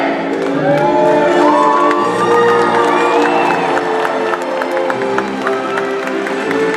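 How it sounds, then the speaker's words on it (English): Crowd at an orca show in SeaWorld Orlando cheering and whooping with applause and children's shouts, a loud sustained roar of voices and clapping from a large stadium audience. "When we see this jump, let's give it a great big cheer"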